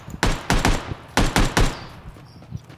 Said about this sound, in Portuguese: Enchi o gajo de tiros